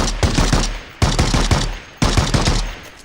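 An MK14 rifle fires in a video game, three loud close bursts of rapid shots, each about a second long, starting sharply and trailing off in echo.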